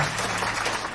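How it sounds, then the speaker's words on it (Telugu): Church congregation clapping their hands together during a sermon, a dense continuous burst of many hands sounding close and loud for about a second. "చప్పట్లు కొట్టండి"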